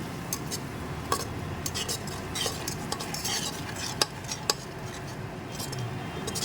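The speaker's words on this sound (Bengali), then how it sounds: "দিয়ে মশলাটা ভালো করে কষিয়ে নেব" Spice paste with coriander powder and salt is sautéed in a pan for prawn pulao, a soft sizzle under repeated stirring scrapes and clinks of a utensil against the pot, close and moderate, no talking.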